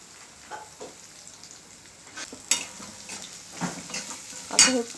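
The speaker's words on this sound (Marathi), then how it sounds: "तेलामध्ये छान फोडणीमध्ये शॅलो फ्राय होऊ द्यायचे क्रिस्पी छान सोनेरी रंगावर" Leftover carrots shallow fry in a spiced oil tempering, with a quiet sizzle and several sharp spatula scrapes and clinks against the pan.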